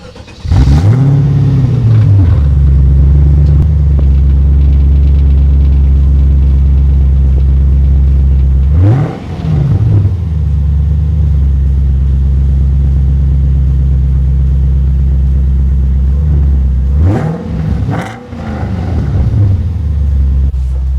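A 1999 Shelby Series 1 sports car engine starts and settles into a loud, steady idle with deep low rumble, punctuated by two sharp revs blipping up and falling back, close by with no talking.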